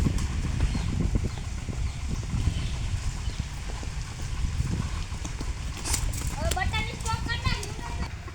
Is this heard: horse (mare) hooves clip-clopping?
yes